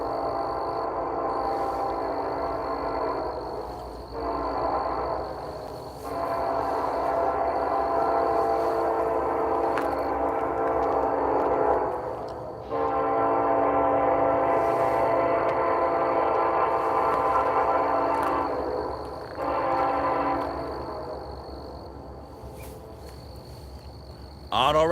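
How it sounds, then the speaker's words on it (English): Norfolk Southern freight train with two locomotives up front and auto racks passing near Ooltewah, Tennessee, a steady loud rumble and rolling rattle swelling and dipping for the whole stretch, with a faint high horn tone running above it. "Looks like 2 locomotives up front."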